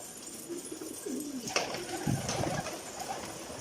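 Pigeons coo softly in low, wavering calls, several short phrases across a few seconds with a faint background hiss, near and moderately quiet.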